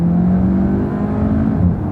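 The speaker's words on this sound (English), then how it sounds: "Takes off fast with that turbo." A turbocharged car engine pulls hard and revs up with a steady rising whir, heard from inside the vehicle, loud and close.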